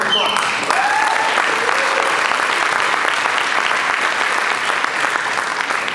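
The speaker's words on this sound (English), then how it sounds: "Give yourselves a round of applause." Loud, sustained applause from the audience at an Oregon AFSCME union conference, dense clapping filling the whole stretch with faint voices mixed in.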